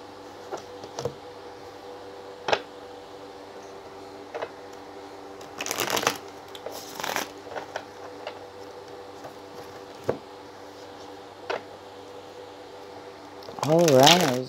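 Tarot and oracle cards are handled and shuffled in scattered soft riffles and flicks, a louder burst near the end, while a voice talks intermittently over the card sounds.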